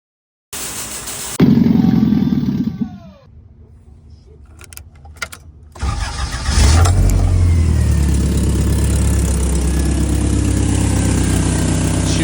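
After a jangle of keys, a 3RZ four-cylinder engine swapped into a first-generation Toyota 4Runner cranks briefly, catches and settles into a loud, steady idle close by, rumbling on without pause.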